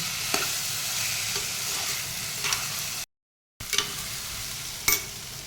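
Ginger, garlic, coriander and mint paste frying in oil gives a steady close sizzle with occasional stirring scrapes, broken by a brief stretch of silence midway.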